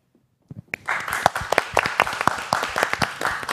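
A crowd at the AKB48 SHOWROOM AWARD 2021 ceremony breaks into applause after a brief pause, with many hands clapping in a dense, lively patter that stays steady and fairly close.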